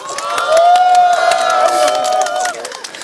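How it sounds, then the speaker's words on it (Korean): At a candlelight rally in Yeouido calling for impeachment, a large crowd cheers and applauds to welcome Moon Jae-in, a loud, sustained roar of voices and clapping that fades near the end. "박수 한번 부탁드립니다."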